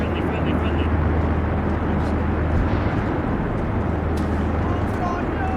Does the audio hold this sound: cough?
no